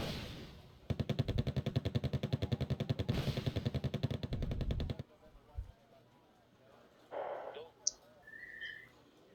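Rapid automatic gunfire in a video game, likely a highway shootout in Seoul, rattles in a loud sustained burst for several seconds, then cuts out, leaving scattered quieter game sounds and faint whistle-like tones.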